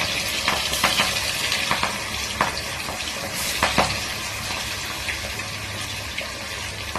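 Food frying in a pan at home, with a steady broadband sizzle throughout, occasional clinks and stirring scrapes and brief bursts as pieces are moved; no talking.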